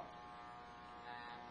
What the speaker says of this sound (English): You can use wall, the adjustable clippers, or your master adjustable clippers.